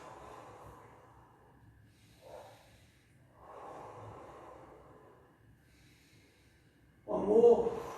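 Deep breaths taken during a power yoga flow pose, slow soft inhales and exhales, close and faint, ending in a louder rushing breath.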